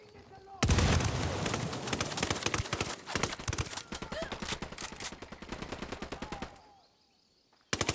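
Combat against cartel sicario troops in a shooter game: rapid bursts of automatic gunfire crackle nonstop with a frag grenade blast mixed in, loud and close, then the firing cuts off into near silence before a final shot.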